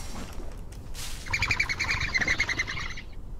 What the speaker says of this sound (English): Was that supposed to be a bird? Because it did not sound like a bird.